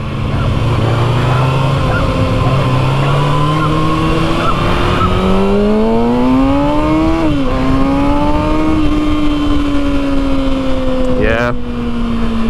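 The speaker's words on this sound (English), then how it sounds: "You can get in trouble with this bike for sure. It's only a 636." A Kawasaki 636 sport motorcycle engine at a demo ride in Orlando, a loud continuous close whine rising and falling in pitch through the gears, with a rider's voice faintly underneath.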